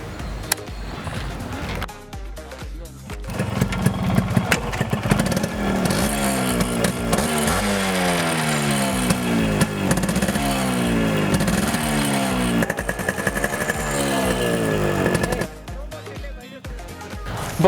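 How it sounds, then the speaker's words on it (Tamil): Crackling, buzzy revving of a modified Yamaha RX100 two-stroke motorcycle engine, repeated sharp throttle blips rising and falling in pitch, loud and close, with brief quieter moments at the start and end. "இப்போ வந்து நீங்கள் RX100 சவுண்டு கேட்டிருப்பீங்க"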